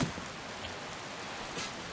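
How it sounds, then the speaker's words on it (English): Steady rain falls in a video game, a soft, even hiss of drops that runs unbroken from start to finish with no voices. "And it's raining again."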